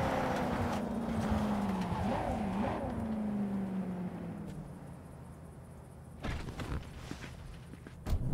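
A car in Cyberpunk 2077 drives and slides into a drift, its engine tone rising and falling steadily with tire noise, ending in a few scuffing bursts.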